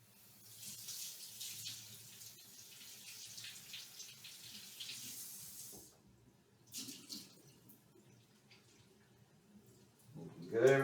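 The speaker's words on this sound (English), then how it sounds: "come over here to the sink. Just going to rinse that out a little bit." Kitchen tap water runs into a sink while a can of beans is rinsed, a faint steady hiss for several seconds that stops, then short splashes and a few clicks.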